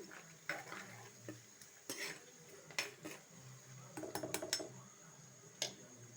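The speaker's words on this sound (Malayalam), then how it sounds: "മഞ്ഞൾപ്പൊടി ഇട്ടിട്ടുണ്ട് ഇളക്കി കൊടുക്കാം" A spoon stirs turmeric powder in a cooking pan for a Kerala fish curry, giving soft, scattered scrapes and light clinks of metal on metal in an otherwise quiet kitchen.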